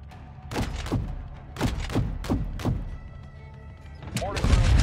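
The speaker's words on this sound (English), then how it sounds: "Oh, mortar fire." In Call of Duty: Modern Warfare 2, a run of deep booming mortar explosions lands around a soccer field, some nearer and some farther off, under voices and radio chatter.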